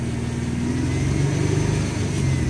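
A 1999 Ford Mustang V6 engine revs up from idle, its steady mid-range growl rising and swelling in a close, continuous, loud drone with no one speaking.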